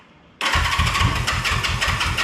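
A 1974 Honda CB360 motorcycle that has sat in storage cranks over after a short quiet moment, its starter churning in a fast, even pulsing rhythm, loud and close.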